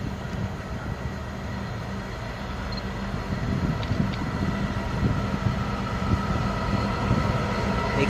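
An ex-EWS DB Cargo diesel locomotive throttles up, its engine a deep sustained rumbling drone that gradually swells in loudness over several seconds, heard from trackside with no talk.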